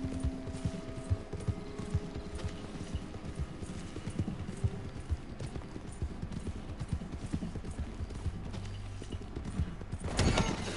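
Horse hooves clip-clop steadily in Red Dead Redemption 2 Online, a dense rhythmic patter of game footfalls with creaks and a brief whinny, continuous and fairly close, swelling louder near the end.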